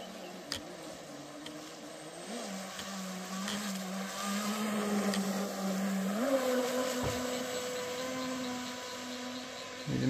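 Twin Cheetah RC speed boat on a test lap, its motor holding a steady high whine that rises in pitch partway through as it speeds up, running continuously with no talk.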